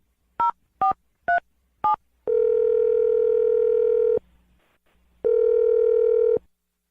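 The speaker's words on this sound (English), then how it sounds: "I'm going to dial the phone number" Four short beeping tones in a row, then a steady dial tone that pauses and starts again, clear and close with no voices.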